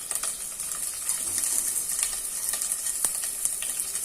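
Chana dal, green chili and ginger frying in hot tempering oil for an Indian lemon oats dish, giving a steady close crackling sizzle with sharp pops throughout, no voices.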